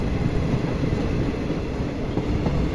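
Continuous rumbling of a train in motion in the PC game Train Simulator Classic, a steady dense roar of wheels and carriages without pauses or voices.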